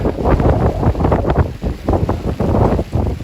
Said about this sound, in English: Oh, it's that wind again.